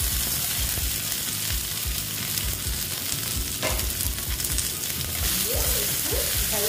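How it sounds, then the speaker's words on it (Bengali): Chopped okra fries in a hot pan, a continuous crackling sizzle with scraping stirs and clinks of a utensil, steady and close throughout. "এইবার আমি ঢেঁড়সগুলো দিয়ে দিচ্ছি।"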